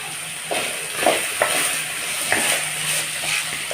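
Snake gourd seed chutney with grated coconut sizzles and is stirred in a pan, a steady frying hiss with scraping stirring strokes at irregular intervals, close and fairly loud.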